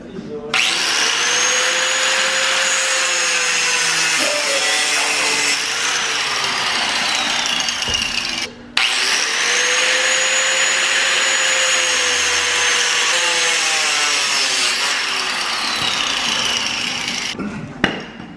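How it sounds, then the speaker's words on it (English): A handheld cutting wheel slicing through car parts on a 240SX drift car build; a loud, close, high grinding whine runs continuously in two long cuts split by a brief pause, its pitch sagging and recovering as the blade bites. "Handy dandy cutting wheel from the winter beater days."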